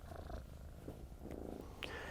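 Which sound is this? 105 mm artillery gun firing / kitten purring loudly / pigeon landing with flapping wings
kitten purring loudly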